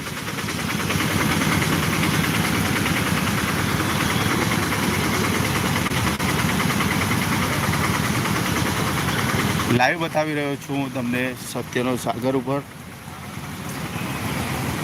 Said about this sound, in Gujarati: ભારે ટ્રાફિક જામ મહેસાણામાં માનવાશ્રમ ચોકડીથી વિસનગર તરફ જતા માર્ગે બંને તરફ વાહનો ભરાઈ ગયા છે